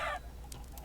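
A brief burst of clucking from chickens in a Minecraft-style server game, a couple of short calls over a quiet background hum.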